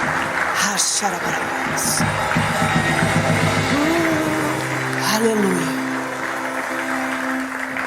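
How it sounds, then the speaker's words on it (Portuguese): A church congregation applauds during a service, a dense clapping wash with cheers and whoops, while voices speak and call out over it, one rising and falling in pitch. "Dá uma salva de palmas."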